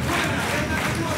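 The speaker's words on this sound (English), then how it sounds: "If only the crowd could shut up." A crowd at a live wrestling show in Shoeburyness, Southend roars loudly and continuously, with many overlapping shouting voices packed close together.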